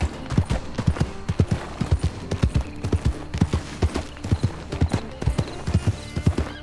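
Horse hooves clip-clop steadily in the Red Dead video game, a quick, regular rhythm of close, distinct hoof strikes with faint chatter underneath.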